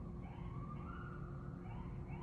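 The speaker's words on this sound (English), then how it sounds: "Oh, sorry about the sirens." Police sirens wail outside at a distance, a faint steady rising and falling tone behind a quiet room.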